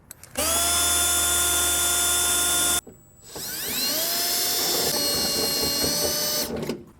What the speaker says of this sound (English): using the drill bit that was provided, I'm gonna go ahead and just drill straight through from right here